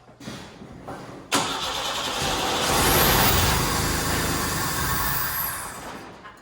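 An old 1955 Ford F100 truck engine cranks, then catches with a sudden roar and runs rough and loud for a few seconds before winding down.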